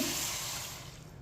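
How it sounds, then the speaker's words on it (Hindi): A cup of water is poured over broken jaggery pieces in a cooking pot, a brief close splashing rush that gradually eases off. "1 प्याली पानी डाल लेंगे।"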